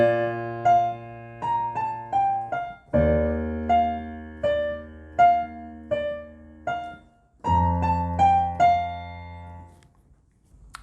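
A solo piano plays the introduction of a song, with repeating right-hand melody notes over deep sustained left-hand chords in slow, even phrases that ring out clearly before fading to silence.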